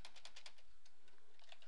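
Computer keyboard being typed on, a quick run of faint, close key clicks in an uneven rhythm with no talking.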